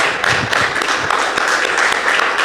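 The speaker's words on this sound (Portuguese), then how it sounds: "para o Senhor Jesus, uma linda salva de palmas" Congregation applauding during a church service, a dense steady wash of many hands clapping at even loudness throughout, with no speech over it.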